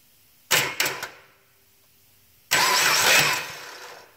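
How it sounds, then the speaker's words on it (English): A 2008 Dodge Caliber engine is cranked by a jumper wire run straight to the starter: a few short, loud churning bursts, a pause, then a sustained second cranking run, close and with no talk. "Cranks over. That means your starter's good."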